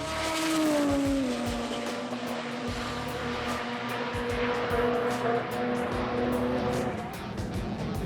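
Engine of a Mazda RX3 drag racing car at the 2019 Garrett Sydney Jamboree sports compact drag event, a loud sustained rotary engine whine rising in pitch, then holding steady against crowd and track noise.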